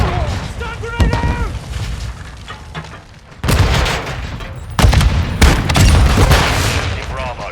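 Call of Duty MW2 Domination match on Shipment, with shotguns only: a stun grenade goes off with a sharp bang, followed by heavy bursts of gunfire and booms, while in-game voice callouts speak over the opening.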